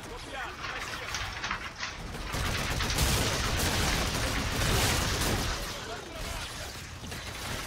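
Rapid gunfire in Call of Duty: Infinite Warfare, dense crackling bursts that build to a loud sustained barrage in the middle before easing, with someone talking over it.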